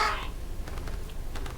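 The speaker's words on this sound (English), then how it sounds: "That's the crows. Crows coming in." Crows cawing in the fantasy strategy video game Age of Wonders 3, a few harsh calls near the start with quieter caws scattered through the rest of the short stretch of game audio.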